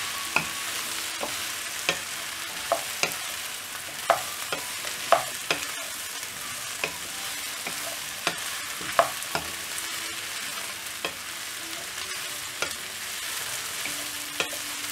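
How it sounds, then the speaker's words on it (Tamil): Cut brinjal, plantain and potato are stirred in a hot pan for a traditional dried-fish curry, with a steady spoon scraping and clatter over a soft sizzle, close and alone. "இப்போது இந்த காய்கறிகளை நல்லா மிக்ஸ் பண்ணிடலாம்."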